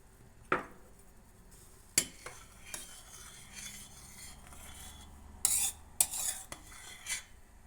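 Spoon scraping and stirring through sütlaç (Turkish rice pudding) in a pot, with sharp utensil clinks against the metal rim and rhythmic swishing strokes, close and moderately loud with no voices.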